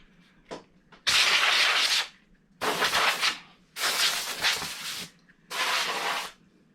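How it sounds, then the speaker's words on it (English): A can of compressed air sprays in four loud hissing bursts, each about a second long, close up, with short silent gaps, cleaning dust from a laptop. "get a can of compressed air"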